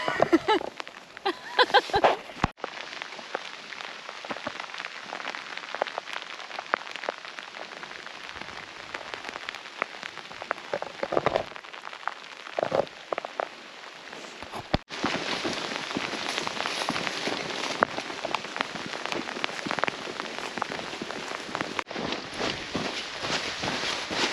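Heavy rain shower pours outdoors during orca watching, a dense, steady hiss of rain hitting surfaces, close and loud with brief louder bursts and no voices.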